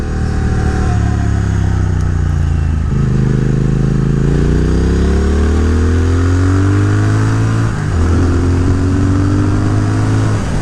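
A Triumph Speed Twin motorcycle engine with an ECU tune accelerates under a rider, loud and close, its pitch rising steadily through the gears with two brief dips at the shifts, heard alone.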